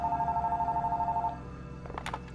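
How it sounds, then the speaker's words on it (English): Steady electronic phone ring from a horror video game (Fears to Fathom), a pulsing trill lasting just over a second before it cuts off, followed by faint clicks and rustling. "How do I answer the phone?"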